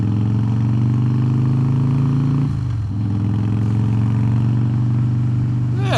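A 2016 Harley-Davidson CVO Pro Street Breakout motorcycle rumbles at a steady, loud idle, its deep engine throb briefly dipping then settling back, with a faint voice near the end.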